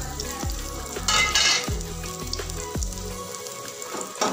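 Bread toasts filled with potato fry in hot oil in a pan, giving a steady close sizzle broken by several low thuds and spatula scrapes, with a brief louder crackling burst partway through.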